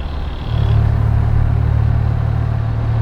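A classic MG B sports car engine drones steadily at low revs in overdrive, a loud continuous interior hum with a faint whine fading early.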